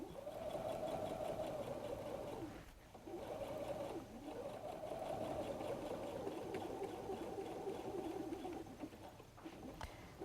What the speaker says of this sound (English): I will finish stitching across the flap